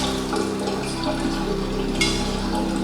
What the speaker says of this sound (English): While my spaghetti is draining